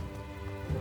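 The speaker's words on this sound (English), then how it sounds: "now it's raining." In-game rain falls in Final Fantasy XI as a steady, even wash of drops. Sustained tonal background music plays beneath it, with no speech.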